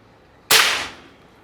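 A single sharp crack from a PCP Apache Big Game air rifle charged to 4000 PSI, fired close by, with a bright burst that fades over about half a second and no voices around it.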